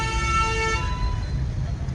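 Busy city road traffic with a car horn tooting steadily over the first part, then fading into a dense rumble of passing vehicles, with a voice present.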